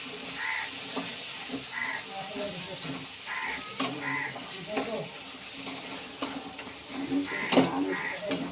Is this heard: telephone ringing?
no